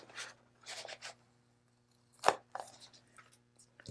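Cut cork pieces being peeled off a Cricut cutting mat, with a few soft scratchy rustles and one sharp close tearing snap partway through, then lighter peeling rustles; no talking.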